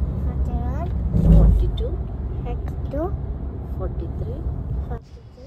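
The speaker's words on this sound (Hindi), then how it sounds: "एज़ यूजुअल बेंगलोर की ट्रैफिक इज़ अनप्रडिक्टेबल, तो हम लोग ट्रैफिक में फंस गए थे, तो उम्मू को लग गई थी नींद" Road traffic in Bangalore rumbles steadily: engine noise, passing vehicles and several rising and falling horn-like tones, with voices heard over it before the sound drops off at the end.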